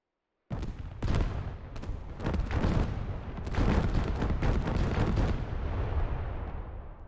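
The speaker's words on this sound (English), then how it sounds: "There's also the HIMARS barrage, which can cover a pretty significant area" HIMARS rocket artillery barrage in the video game Squad Supermod: a rapid string of loud, heavy impacts and booms pounds over several seconds, the blasts overlapping into a rolling roar that slowly fades, with no talk.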